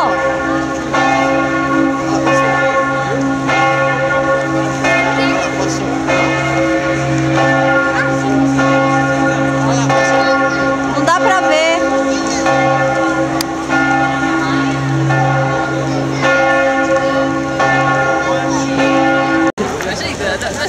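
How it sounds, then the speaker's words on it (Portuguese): Church bells ring repeatedly near Piazza San Marco in Venice, a steady, resonant series of strikes heard from a gondola, with people chatting over the pealing throughout. "esse é o sino lá de cima"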